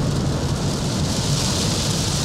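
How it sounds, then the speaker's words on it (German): Heavy rain drums steadily on a Kia EV9 electric SUV driving on a wet motorway, a dense, loud continuous wash of spray and patter with road rumble beneath. "obwohl wir viel mehr Regen haben und die Fahrbahn jetzt richtig nass ist"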